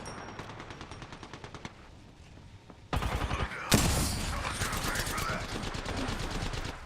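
Rapid automatic gunfire in a squad-based online shooter game, sustained volleys of bursts that jump louder midway, with a sharp close blast near the middle, dense and continuous without talk.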